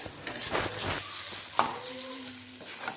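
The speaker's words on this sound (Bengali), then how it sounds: "এইভাবে নাড়াচাড়া করে জলটা একদম শুকিয়ে নিতে হবে।" Bottle gourd leaf paste with green chillies is stirred in a pan to cook off its water, giving soft scraping and faint sizzling with a few utensil knocks and no talk.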